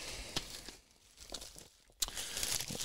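Plastic and cardboard packaging of a limited-edition G.I. Joe: A Real American Hero complete DVD box set being unwrapped, close crinkling and tearing in bursts with a pause in the middle.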